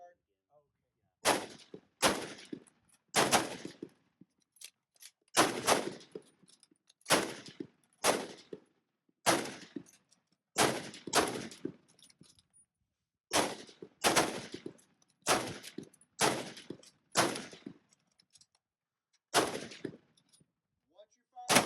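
Rifles firing at a shooting range, about fifteen sharp, loud reports spaced irregularly, some close together in pairs, with short silences between them.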